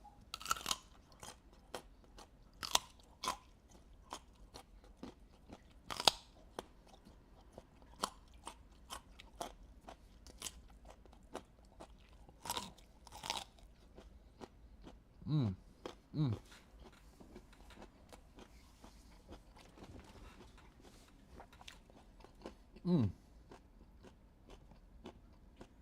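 Loud chewing and crunching bites, sharp isolated crunches scattered irregularly across a long stretch, with quiet gaps between them.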